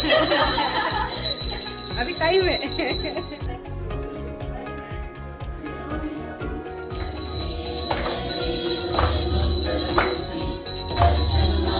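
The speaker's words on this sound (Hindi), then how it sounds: "घंटी बजा रहे हो सर?" A hand bell rings repeatedly with a steady metallic tone during a Ganesh puja while people talk nearby.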